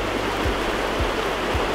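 A waterfall in Patagonia roars as a loud, steady, broadband rush of falling water, with a few low thumps at regular intervals beneath it and no voices.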